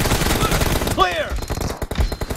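Rapid bursts of gunfire in the mobile battle-royale game PUBG Mobile come close and loud, alongside in-game effects, with players calling out over the shots.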